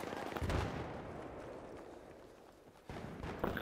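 Video game gunfire comes through as muffled, fairly faint bursts of shots near the start and again at the end, with a low noisy background between them.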